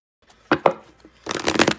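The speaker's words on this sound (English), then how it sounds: "I'm just going to pull a couple of cards to see if I can get" Tarot cards are handled with a few soft taps and slides, then riffled in a brisk, close shuffle that ends the moment.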